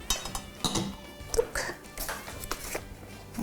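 Wet ingredients for black bean brownies being mixed in a bowl, with irregular clinks and scrapes of a utensil against the bowl and faint voice sounds mixed in.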